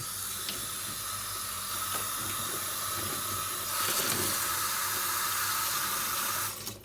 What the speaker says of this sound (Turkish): Evet buradan yine suyunu koyacağız üstüne.